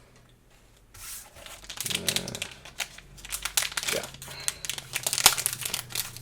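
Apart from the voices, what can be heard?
scissors cutting open a Warcry card pack wrapper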